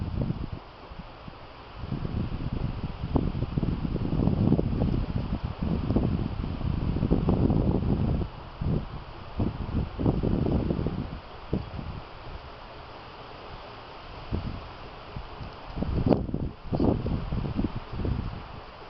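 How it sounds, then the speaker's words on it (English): Steady wind blowing outdoors during a barbecue cook on a Lang smoker, buffeting the microphone in loud gusts and rumbles that rise and fall throughout, with rustling underneath. "Wind's kind of playing havoc with me"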